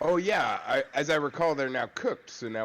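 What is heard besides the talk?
No distinct noise like a dog, phone or traffic.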